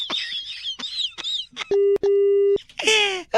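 A phone call cuts off, giving a loud, steady electronic tone that breaks briefly once before stopping. Excited voices come just before it and right after it.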